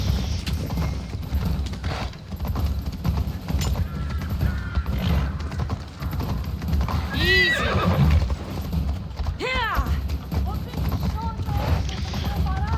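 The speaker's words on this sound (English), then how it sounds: "I'll just borrow this horse and get out of here." Horse in the video game Assassin's Creed Odyssey, steady hoof clip-clop over a constant low rumble, with a couple of loud neighs and whinnies partway through, no talking.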